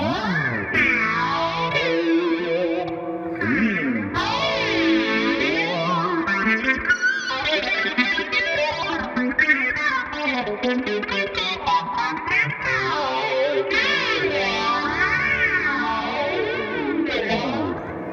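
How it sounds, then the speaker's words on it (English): Distorted electric guitar soaked in a phaser, its tone swooshing and sweeping up and down continuously through fast, busy Eruption-style playing. "that results in the cool swooshing, sweeping sound that we'll hear right now"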